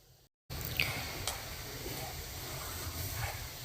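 Grated coconut simmering in a pan on a low gas flame while its moisture cooks off to make coconut oil gives a steady, close hiss. After a brief silent gap at the start it runs on, with a few faint clicks.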